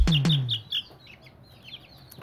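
An Aseel hen clucks twice in sharp, close bursts, followed by softer high chirps from Aseel chicks going through their feather molt, all fading to a quiet background by the end.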